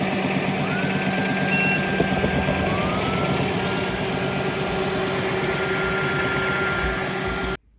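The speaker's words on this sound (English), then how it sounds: "It's just going to discharge water in here and clean the brush while it rubs on there." A cordless wet-dry vacuum mop self-cleans its brush: a steady mechanical whir with a low motor hum runs continuously, joined by faint swishing of water, then cuts off abruptly at the end.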